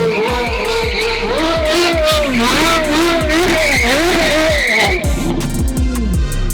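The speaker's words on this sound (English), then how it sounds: "Man, I miss the sound of that car." Supercar drifting with loud, sustained tire squeal warbling up and down over a revving engine, close and intense for several seconds before easing, with people talking over it.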